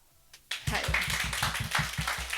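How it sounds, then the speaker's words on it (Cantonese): Audience clapping for themselves, a burst of applause starting after a brief pause and continuing in steady, close rhythmic claps. "所以係應該俾啲掌聲俾自己"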